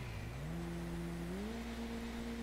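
A synthetic car engine in GTA V revving up in steps, a smooth droning tone rising in pitch over steady background noise.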